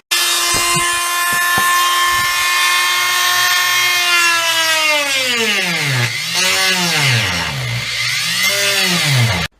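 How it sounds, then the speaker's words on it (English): A die grinder grinds flat sides onto a screw from a washing machine, a loud continuous high whine that drops in pitch and wavers as it loads against the metal, running alone. "use a die grinder now"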